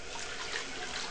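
Dirty water pours out of an aquarium ring filter during cleaning, making a short continuous splashing trickle at moderate, steady loudness.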